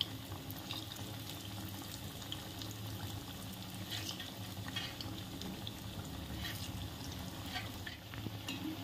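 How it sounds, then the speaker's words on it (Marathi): Kothimbir vadi, coriander fritters, frying in a pan of oil, a steady bubbling sizzle running unbroken throughout with occasional small crackles, no voices. "आता अशाच पद्धतीने सगळ्या वड्या आपण तळून घेऊया."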